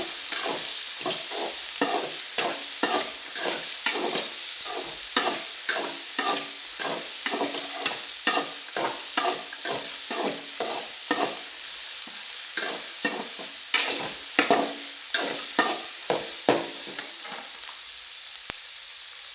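Vegetables frying in a pan with steady sizzling and rhythmic scraping stirs, close and even, continuing without talk.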